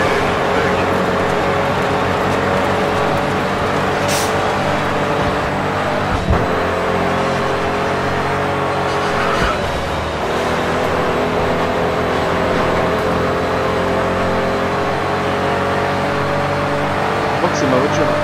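A car engine in a video game, a steady droning hum with a constant tone running throughout, mixed under ongoing talk and game sounds.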